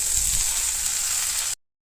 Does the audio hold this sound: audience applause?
no